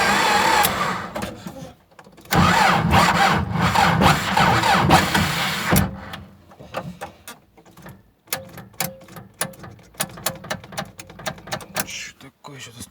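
A starter cranks a T40 tractor engine after winter in long grinding bursts, then breaks into rapid clattering ticks, close and loud, with someone talking between attempts.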